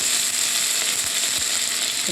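Vegetables frying in hot oil, a steady dense sizzle that stays loud and close throughout, with a couple of faint low knocks partway through and no talk.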